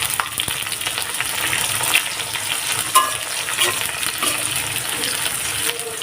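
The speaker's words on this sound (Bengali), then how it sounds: "এখন আমি এগুলা ভাজতে থাকবো" Chili and onion frying in a pan for dal, with a steady sizzle broken by occasional stirring scrapes and light clinks, close and fairly loud, with no voices.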